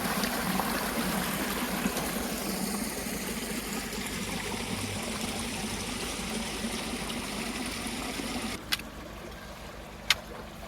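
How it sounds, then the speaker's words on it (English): Water runs steadily out of a drain pipe leading from a tunnel after months of rain, a continuous close rushing flow that stays alone throughout, with two sharp knocks near the end. "Still a lot of water coming out, isn't there?"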